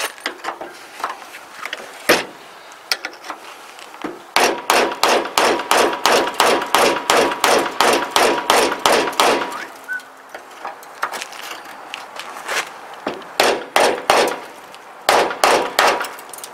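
A wood chisel is hammered on car body metal during fabrication on a 1948 Ford sedan. Loud, close, ringing metallic strikes come in fast regular runs separated by brief pauses.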